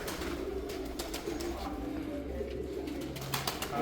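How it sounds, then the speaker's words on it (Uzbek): Chess pigeons cooing softly at moderate distance, repeated low throaty coos over a dense background of other bird chirps, fairly quiet with no clear speech. "Mana bunaqa shaxmat kaptarlar kamayib ketyapti."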